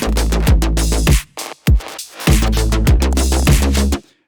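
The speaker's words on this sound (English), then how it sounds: "that only real kind of mid-rangey sound you're hearing right now is this thing I'm just calling the roller" A rolling, mid-rangey bass sound pulses in an electronic track during mixing, in loud rhythmic bursts with punchy low hits and brief dropouts, no voices.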